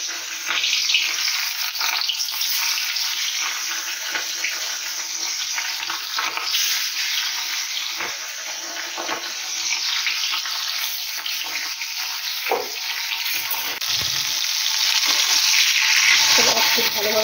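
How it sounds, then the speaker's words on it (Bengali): Fish fry in hot oil in a home kitchen with a steady, dense sizzle and crackle that holds throughout, rising slightly toward the end, with occasional clinks. "এই যে তেল গরম হয়ে গেছে, মাছগুলো আগে ভেজে নিই"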